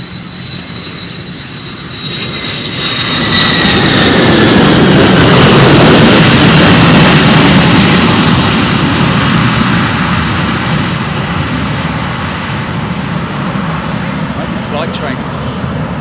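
A UPS freighter jet with CF6 engines takes off from a runway at Louisville airport, its roar building over a few seconds into a loud, close, sustained rumble with a whine on top, then holding steady as it pulls away.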